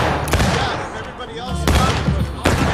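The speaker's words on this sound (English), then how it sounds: "There's just so many of them shooting right now." Loud, dense video-game gunfire in rapid overlapping volleys, with two hard bursts standing out over continuous shooting and no clear talk.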